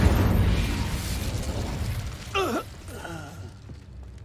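Incendio fire spell in Hogwarts Legacy erupts as a loud low whoosh and explosive burst that gradually subsides, followed by a brief vocal grunt and sigh.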